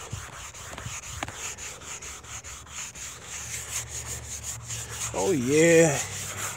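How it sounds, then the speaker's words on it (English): Coarse side of a Dollar Tree sanding sponge rubbing across wood in steady scratchy strokes, close and fairly loud, with a brief spoken comment and a rising tonal whine near the end. "this is the coarse side, because you can hear the sound of it more"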